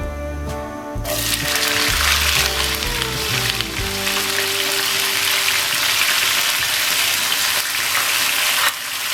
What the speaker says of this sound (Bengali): জিরাগুলো ফুটে উঠেছে